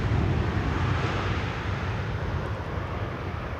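KLM Boeing 777-200 arriving at Schiphol's Polderbaan runway from Toronto, a loud broad jet engine roar heard close, steady and slowly easing, with wind buffeting the microphone.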